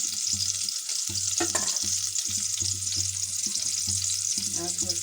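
A bay leaf crackles in hot oil in a pot of khichuri, a steady sizzling hiss over a low rhythmic hum, with a few brief clatters.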